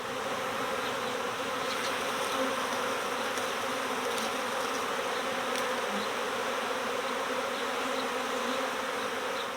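A dense, steady buzzing of a honeybee swarm fills the air, a continuous humming drone at moderate volume with no voices.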